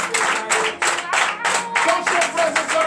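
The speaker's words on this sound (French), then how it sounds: "Donc je vous demande d'applaudir très fort." A congregation at morning prayer claps loudly in rhythmic bursts, close and energetic, with voices and a sung tone mixed in beneath the beat.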